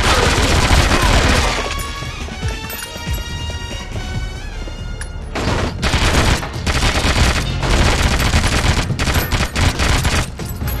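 Sustained automatic gunfire and rapid shots in 007: Agent Under Fire on the Mediterranean Crisis mission, loud and dense throughout with brief booms, a wall of overlapping fire and no clear talking.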